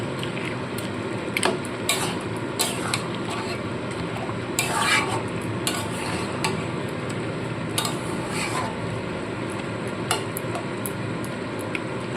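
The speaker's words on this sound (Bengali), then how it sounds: "খুব ভালো করে মাছের মাথাটাকে সম্পূর্ণ সবজির সাথে মিশিয়ে নিতে হবে" Fish head being stirred with vegetables in a pan for kanta shukto, repeated close scraping and clinking of a spatula against the pan over a low steady sizzle, with irregular sharp knocks throughout.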